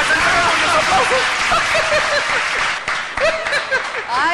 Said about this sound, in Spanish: Vamos a saludar con los aplausos.